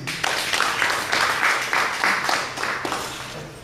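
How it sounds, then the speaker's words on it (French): An audience at a digital careers forum panel in Porto-Novo applauds, a steady burst of many hands clapping close by that swells and then tapers off. "on applaudit pour lui"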